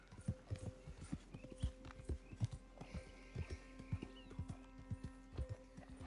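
Horse hooves clip-clop steadily in the Red Dead Redemption II video game, a rhythmic series of close, distinct hoof strikes running throughout with occasional fainter knocks between them.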